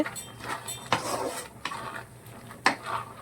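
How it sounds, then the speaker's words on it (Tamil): White pumpkin kootu with coconut stirred in a metal pot, several sharp spoon clanks and scrapes against the pot over a few seconds. "கொஞ்சம் தண்ணி அழைச்சி ஊற்றிட்டோம் கலக்கலாம் நல்லா கலக்கிட்டு தேங்காய் ஊற்றி"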